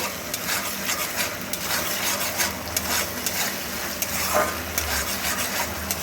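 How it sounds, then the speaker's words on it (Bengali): Homemade momo being stirred and tossed with hot and sweet sauce in a hot pan, a continuous soft sizzle with light scraping and clinks of the spatula against the pan, no talking. "সসটা দিয়ে ভালো করে নাড়বো আর একটু মিশিয়ে দেব"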